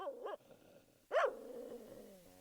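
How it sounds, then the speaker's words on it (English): A single dog bark sample fires in a Unity FMOD ambience built from looping birds and wind: one short bark, a pause, then a louder, fuller bark that trails into a low, steady tail. "I included a multi-instrument that randomly selects one of 3 different dog bark samples"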